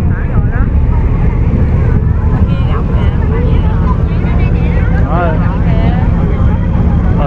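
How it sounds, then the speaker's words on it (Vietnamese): Small fishing boats motor back toward shore at the Mỹ Long sea worship festival in Trà Vinh, a loud continuous engine drone buffeted by wind noise, with people talking over it throughout. "Thả rồi bây giờ các ghe đang quay ngược trở về cô chú chị"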